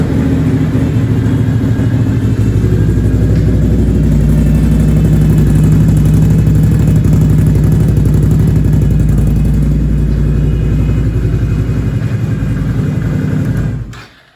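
A Can-Am ATV with a cracked frame runs steadily, a loud, close, even engine rumble with a faint mechanical clatter that holds for most of the clip, then cuts off abruptly at the end.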